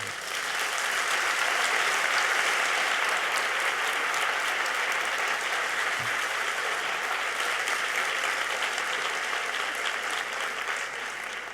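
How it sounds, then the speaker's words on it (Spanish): Steady, loud audience applause at an education conference, a dense uniform roar of many clapping hands lasting throughout with no break. "os pediré un aplauso para los compañeros que han estado aquí."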